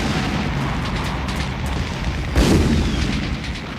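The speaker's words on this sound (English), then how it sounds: "In the distance, explosions and cannon fire could be heard." A distant rumbling background punctuated by a single heavy boom, like far-off explosion or cannon fire, with faint scattered pops before it.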